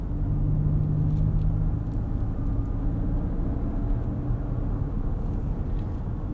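A 2024 Lexus TX 500h F Sport with 22-inch wheels is driven along a road, its cabin filled with a steady low rumble of road and tyre noise.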